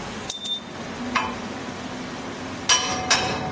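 Sharp metallic hammer strikes ring out while installing a 6-inch lift on a 2006 GMC, one early, one in the middle and two close together near the end, each with a brief clanging ring.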